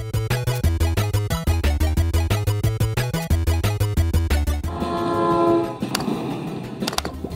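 Crossy Road video game train passing: a steady electronic rhythmic beat gives way to a loud rushing rumble with a sustained horn blast, followed by a couple of sharp high tones.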